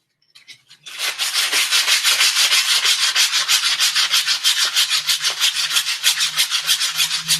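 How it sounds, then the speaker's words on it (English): Steady back-and-forth sanding by hand fills the clip, a close, loud, rhythmic rasping scrape that starts after a few light taps and continues without pause. "It took a lot of sanding, but that's looking good."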